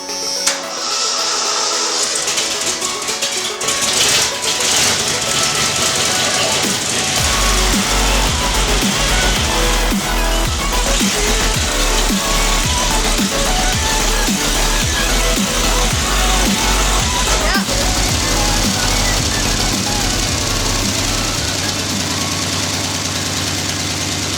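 A rebuilt car engine cranks and catches on its first start, then settles into a loud, rough, rhythmic idle with ticking and knocking, running steadily to the end.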